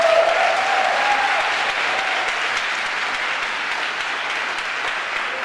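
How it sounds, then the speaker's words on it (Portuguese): Congregation in a church breaks into sustained applause, a broad wash of clapping that holds steady and slowly eases. A brief voice is faintly audible at the very start. "Era para aplaudir isso aí, pelo amor de Deus."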